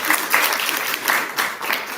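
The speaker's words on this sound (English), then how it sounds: "Let's give our candidates a round of applause." An audience at a student association senator candidates' forum applauds, a brisk, even patter of many hands clapping close by for a couple of seconds.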